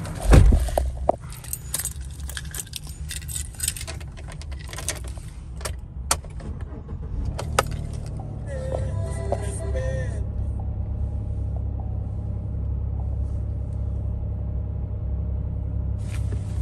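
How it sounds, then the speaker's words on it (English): Keys jingle at the start, then a 2019 Chevy Silverado Z71 pickup's engine turns over and settles into a steady, close low idle rumble that carries through to the end with no talking. "As we step in to fire up the engine"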